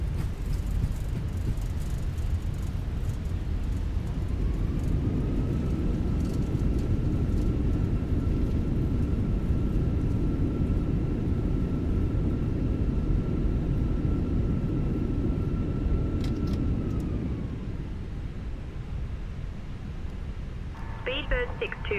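An Airbus A320 touching down and rolling out on landing at Rhodes Diagoras in a flight simulator: a steady, loud engine and roll rumble with a thin whine that holds, then eases as the aircraft slows, with faint clicks near the end.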